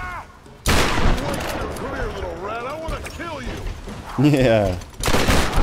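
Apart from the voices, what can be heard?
gunshots in the video game Tomb Raider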